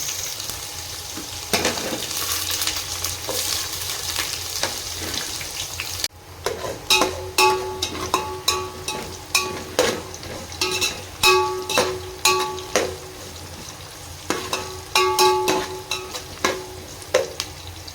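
Onions sizzle steadily in a hot pan, then a spatula stirs and scrapes repeatedly as the frying continues loudly.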